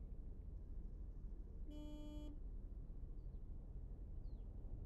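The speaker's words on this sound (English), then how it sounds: "Honking's not going to get you anywhere" Car horn honking in rush-hour city traffic in the game Taxi Life, one clear sustained tone of under a second standing out over a steady rumble of engine noise.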